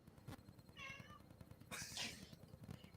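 Cat meows in a short rising and falling call, followed by a louder, harsher squall, heard at moderate distance over a steady background of low rumble and faint voices.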